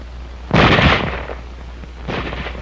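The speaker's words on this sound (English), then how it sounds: "It can fire only as fast as a man can open and close the bolt." A bolt-action rifle fires a single loud, sharp report, followed about a second and a half later by a weaker second burst of noise.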